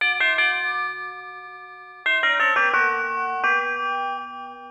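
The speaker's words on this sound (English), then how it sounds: "Tubular bells in church or church bells, often a scary sound." Tubular bells or church bells ring in clear, sustained metallic tones, a pair of strikes followed after a pause by a quicker cascade of overlapping chimes that decay slowly.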